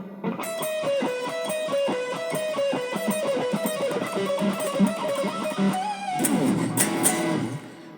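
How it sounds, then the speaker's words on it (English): On electric guitar, a fast melodic lick from Journey's Don't Stop Believin' runs through repeating delay echoes. The quick picked notes start slow, then speed up, and the tone turns denser with strummed chords near the end, close and with no speech. "then the first actual guitar part comes in, which is that little fast melodic lick that you hear"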